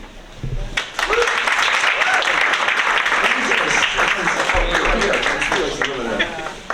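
Loud, sustained applause from an audience at a school board meeting, steady clapping that fills the room for several seconds.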